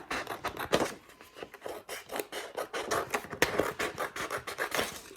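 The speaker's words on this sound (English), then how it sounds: "So I'm going to cut that out." Scissors cutting a picture out of an old Flow magazine, a run of crisp, rasping snips and paper rustles in an irregular rhythm, close and fairly quiet, with no talking.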